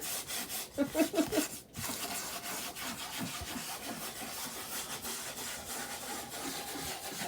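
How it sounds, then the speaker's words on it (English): Close, continuous abrasive rubbing as the top layer of chalk paint is sanded off wood, with rhythmic strokes and a brief louder burst near the start. "Well, sanding's removing some of the top layer."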